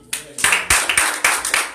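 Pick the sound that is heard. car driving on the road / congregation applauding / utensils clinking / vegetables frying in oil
congregation applauding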